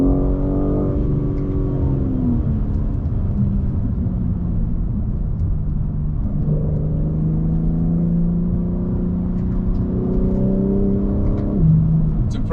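A BMW M3 Competition xDrive accelerates hard in manual mode with paddle shifts. The engine note climbs, drops sharply at each upshift and climbs again, giving a loud, close rising-and-falling drone with no talk.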